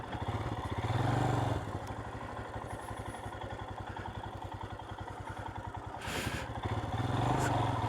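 A Royal Enfield Himalayan 411 ridden offroad gives a steady, close single-cylinder thrum with mechanical clatter, swelling louder in brief bursts of throttle near the start and again toward the end.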